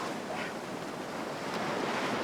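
Ocean waves breaking and washing along a beach, a steady dense roar of surf with wind noise buffeting the microphone throughout.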